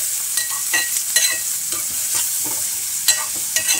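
Split moong dal curry pieces fry in a pan under a soft sizzle, while a spoon scrapes and clinks in quick, uneven strokes close by.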